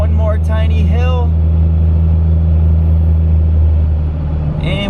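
Diesel truck fitted with an HY35 turbo and 125 HP injectors, its engine droning steadily at close range as boost fades after a small hill, with a voice talking over the first part.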